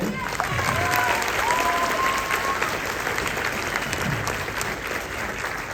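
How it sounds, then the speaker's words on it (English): Audience clapping steadily after a high school concert band performance at a spring concert, a dense sustained wash of applause filling the hall, with a voice briefly audible underneath. "How about another round of applause for these fabulous, fantastic, talented musicians on stage?"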